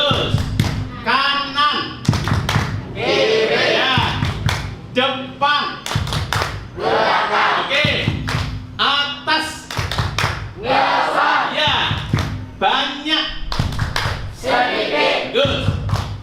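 A group plays a clapping word game led by a teacher at a Quran study class, with short bursts of rhythmic clapping repeating in regular phrases between spoken and chanted lines.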